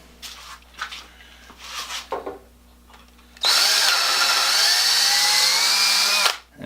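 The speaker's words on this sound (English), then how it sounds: "chuck it up in the drill" Voices are heard briefly before a power drill with a 3/16 inch bit starts drilling a pilot hole in wood, a loud, steady whine that runs for about three seconds, then cuts off.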